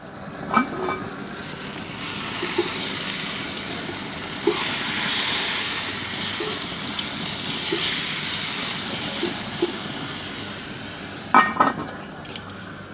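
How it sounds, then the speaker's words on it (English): Steady, loud sizzling hiss of steak searing in a hot Dutch oven, with occasional faint clicks and small pops throughout. "And let that steak get a good sizzle."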